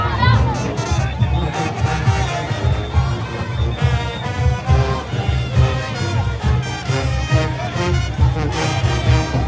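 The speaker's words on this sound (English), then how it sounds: "There are hundreds taking part in the parade and thousands lining the street to cheer everyone on." A large street crowd lines a Junkanoo parade in the Bahamas, a dense babble of voices and cheers mixed with a steady low rumble of drums and festival noise.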